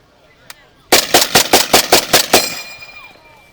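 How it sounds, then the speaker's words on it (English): Eight sharp, loud shots from an M1 rifle firing blanks, in rapid succession and evenly spaced, followed by a fading echo and a faint metallic ring. "The whole clip is inserted into the weapon, the bolt is closed, it's now ready to fire."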